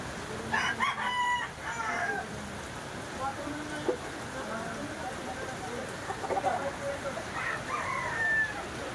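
A rooster crows near the start, with scattered clucks and other fowl calls through a steady noisy background, as people talk in the distance.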